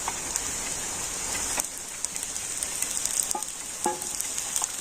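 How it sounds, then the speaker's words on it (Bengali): Vegetables with onion, chilli and salt fry in a pan with a steady, fairly soft sizzle and crackle, broken by a few brief clinks and stirring scrapes, with no voices. "পেঁয়াজ, লঙ্কা, লবণ দিয়ে আবারও কিন্তু সমস্ত সবজিগুলো একটু ভেজে নিচ্ছি"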